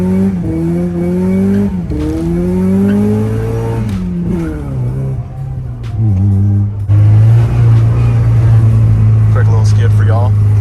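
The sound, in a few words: welded-diff Mazda Miata drifting with tire squeal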